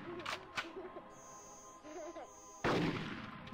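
A shotgun blast from Conker's Bad Fur Day bursts out loudly near the end, after a stretch of quieter game sounds and tonal, voice-like effects.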